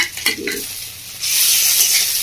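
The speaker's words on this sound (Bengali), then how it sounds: "এবার দিয়ে দিচ্ছি আমি এর মধ্যে আদা রসুনের থেতো করা 2 চামচ মতো আছে" Crushed ginger and garlic go into a pan of frying onions and chillies, bringing a brief stir and clatter, then a loud, bright sizzle that swells and holds close up.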